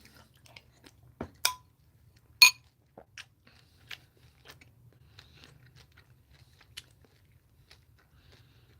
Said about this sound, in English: y'all know how chewy Raisin Bran is